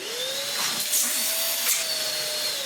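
A vacuum cleaner runs steadily and close by, giving a continuous whooshing roar with a thin high whine and slight surges in pitch.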